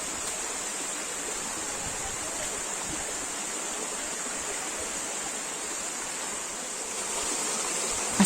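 A waterfall pours into a pool at a jungle campsite near a curug in Bogor, making a constant, even rushing hiss that holds steady throughout and swells slightly at the end.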